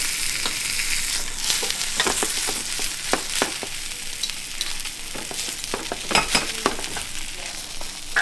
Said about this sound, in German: Dann gucken wir nach unserem Zander. Hier ist es leicht braun, die Haut ist knusprig.